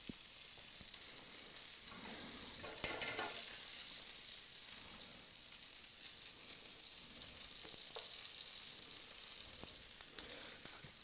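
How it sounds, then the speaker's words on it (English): Chicken breast searing in a pan, a steady bright sizzle with a few faint clinks and stirring sounds, continuous and soft, with no talking. "now we're searing a chicken breast in this pan"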